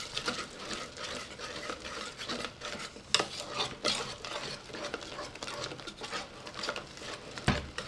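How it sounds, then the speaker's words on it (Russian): Apple pancake batter with cinnamon being stirred in a bowl, a continuous close scraping and wet rubbing with uneven strokes and an occasional sharper knock against the bowl. "И хорошо перемешиваем."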